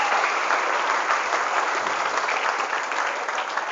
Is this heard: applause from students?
yes